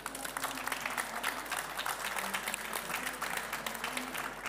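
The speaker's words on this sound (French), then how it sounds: "on peut l'applaudir" Audience applause at an agri-food innovation award ceremony comes as a steady burst of many hands clapping, moderately quiet and continuous, with faint voices beneath.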